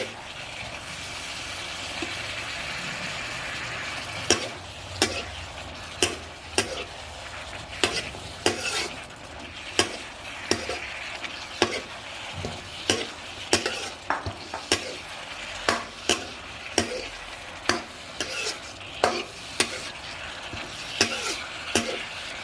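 Ginger stir-fried with cooked chicken in a pan makes a steady sizzle under repeated sharp utensil clanks and scrapes that come every second or so, close by.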